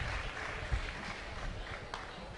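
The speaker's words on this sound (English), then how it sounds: "He is hobbling off the field to applause from the St." Crowd applause at a high school baseball championship semifinal as an injured player leaves the field: faint, scattered clapping from a distant crowd in the open air, steady over a couple of seconds.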